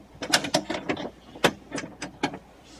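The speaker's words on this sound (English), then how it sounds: "hold the bolt with a wrench and tighten the nut with the socket on the ratchet here." Bolts being tightened with wrenches and a socket ratchet while reassembling the steering on a Pengor Penguin, giving a close series of quick metallic clicks and ratcheting bursts in uneven rhythm.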